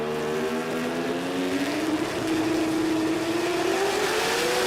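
A Factory Extreme class drag race car at the Garrett Brisbane Jamboree roars off with a loud engine whose pitch climbs steadily as it accelerates away.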